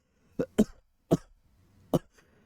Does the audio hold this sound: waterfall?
no